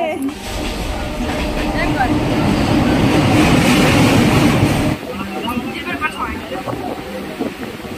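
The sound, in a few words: train noise arriving at Sealdah railway station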